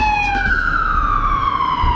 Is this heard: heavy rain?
no